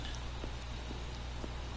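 Rain falls in an alley in Batman: The Telltale Series, a dense, steady hiss of rainfall with a low rumble beneath and faint scattered drops, constant throughout.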